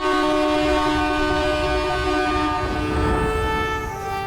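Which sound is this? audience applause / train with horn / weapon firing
train with horn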